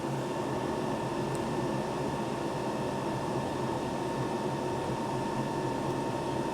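The cooling fan of an Ecoflow Delta 2 portable power station whirs steadily under an electric kettle load, a constant close hum with a faint tonal whine and no breaks.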